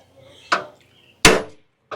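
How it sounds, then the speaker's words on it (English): Two hammers strike, driving bolts through the lower control arm mounts of a battered 1967 Camaro: three sharp, loud metallic blows spaced about a second apart, ringing briefly after each hit. "So I'm going to drive these through in the correct way using 2 hammers"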